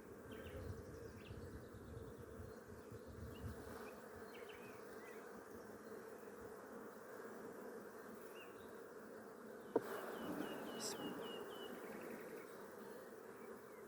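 Honey bees hum and buzz continuously around stacked beehives outdoors in June, a faint, even drone with a single sharp click partway through.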